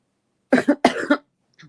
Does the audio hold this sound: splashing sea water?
no